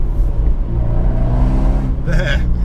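A 2018 Abarth 124 Spider GT with a Monza exhaust gives a loud, deep, throbbing drone that swells slightly as the revs climb and then settle, heard up close with no talking.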